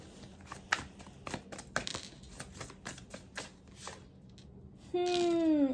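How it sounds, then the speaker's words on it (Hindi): Tarot cards shuffled by hand in a quick run of crisp riffling slaps and flutters lasting about four seconds, close and clear, then a short pause before a bright rising tone begins. "let me shuffle some cards"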